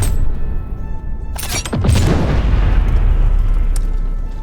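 Heavy armor-piercing shots in the Heart of the Machine game land as a loud booming blast with crackling bursts, followed by a long, rumbling decay.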